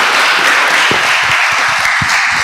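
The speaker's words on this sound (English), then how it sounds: "let's clap for him for the great contribution" A training-event audience breaks into applause, loud and steady clapping that runs unbroken through the moment.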